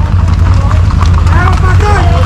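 Horses' hooves clip-clop on a road in Puerto Rico, a rapid, close, continuous clatter from several animals, mixed with voices talking and calling out nearby.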